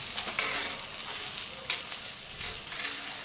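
Pineapple sizzles and fries on a barbecue grill, a steady close hiss with crackling bursts throughout, no voices over it.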